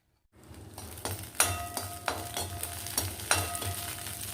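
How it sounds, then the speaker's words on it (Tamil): Peeled medium-size garlic cloves frying in oil give a soft close sizzle, broken by sharp clinks and scrapes of a utensil against the pan at an irregular pace. "மீடியம் சைஸ் பூண்டு எடுத்து உரிச்சு இப்போ கொஞ்சம் எண்ணெயை விட்டுக்கலாம்."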